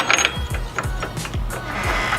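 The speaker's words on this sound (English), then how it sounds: "the next step is going to be breaking this nut, and hopefully the right size socket right here will fix that." Socket wrench ratcheting to break loose a wheel hub nut on a car: a run of quick, close mechanical clicks and clunks in an uneven rhythm, fairly loud over a low background hum.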